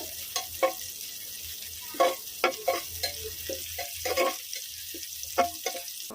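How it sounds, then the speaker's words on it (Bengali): Chopped onions and bay leaf frying in oil in a pot on a clay stove, a steady sizzle with scattered scraping stir strokes and a low crackle running underneath, close and moderately loud. "এখন খুব সুন্দরভাবে লাল লাল করে ভাজতে হবে"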